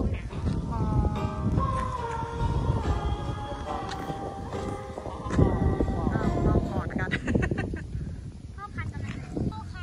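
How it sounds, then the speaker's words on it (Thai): Strong, cold wind buffets the microphone in gusty, low rumbling bursts during a kite-flying outing, with people talking throughout. "พ ่อลมหนาวมาแล้วทุกคน"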